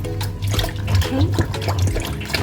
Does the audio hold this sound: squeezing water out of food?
yes